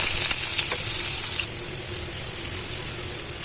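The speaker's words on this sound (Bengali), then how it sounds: "এই শুকনো মরিচগুলি ভেজে উঠিয়ে রাখবো" Dried red chillies frying in hot oil in a home kitchen while preparing an aubergine bharta, giving a steady close sizzle with faint crackles that eases slightly midway, with no talking.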